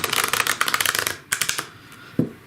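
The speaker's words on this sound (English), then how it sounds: "It's a good practice to just sit there and shuffle" Tarot cards being shuffled by hand, a quick run of crisp riffling flutters followed by a few separate snaps and a soft tap, close and clear with no talking.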